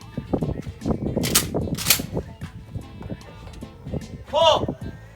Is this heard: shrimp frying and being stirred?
no